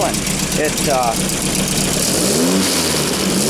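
A carbureted VW buggy engine idles slowly and then revs up cleanly and settles, a steady mechanical hum while someone talks over it.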